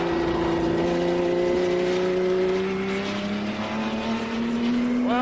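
A Porsche 917 Le Mans race car drives with a loud, sustained engine roar. Its pitch climbs steadily, dips slightly, then sweeps up sharply at the end as it accelerates.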